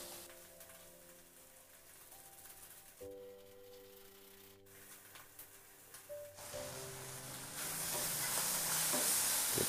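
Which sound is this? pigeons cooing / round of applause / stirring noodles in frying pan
stirring noodles in frying pan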